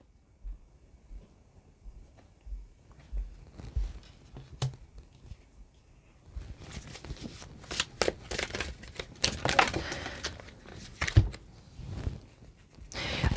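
Tarot cards are shuffled and flicked close by: soft taps and quiet handling at first, then bursts of riffling and flicking that come in uneven clusters.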